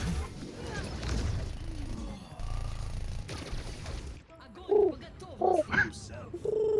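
A person imitates pigeon cooing with several short voiced coos and warbles, coming after a stretch of noisy online shooter gameplay with gunfire.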